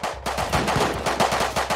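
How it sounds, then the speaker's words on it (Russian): Rapid bursts of Python revolver gunfire in the game Rust, loud and close, a fast rhythmic volley of shots filling the whole stretch without any talk. "Отличная стрельба с питона"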